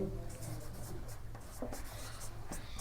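Marker or chalk scraping across a classroom board during a Class 12 maths lesson on differential equations, a steady run of short strokes heard close and fairly loud over a low hum.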